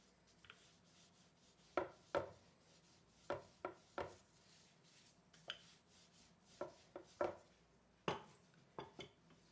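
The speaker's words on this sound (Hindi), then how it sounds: "अब लेंगे हम यहाँ पर रोटियां बनाने वाला चकला बेलना और उसके साथ एक एक पीस को हम प्रेस कर लेंगे अच्छी तरह से बेलने के साथ" Wooden rolling pin pressing and rolling slices of bread flat on a round board for bread samosa, making a series of soft knocks and rubbing sweeps at irregular intervals, close and fairly quiet with no talking.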